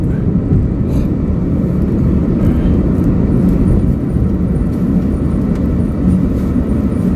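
Heard from inside a moving vehicle in slow traffic, a loud, steady low rumble of road and engine noise fills the clip. Faint brief knocks and passing sounds sit on top, and no one speaks.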